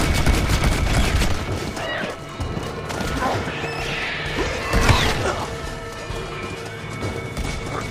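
Rapid bursts of gunfire and sharp crashes fill a zombie-horde video game, including a semi-auto shotgun, loud and close with irregular volleys and impacts.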